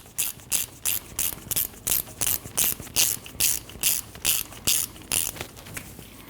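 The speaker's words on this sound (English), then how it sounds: "Tighten down your bolt." A hand ratchet tightens a brake caliper bolt on a 2012-2021 Nissan NV2500, giving a steady run of about fourteen crisp, close clicking bursts at an even rhythm with no talking.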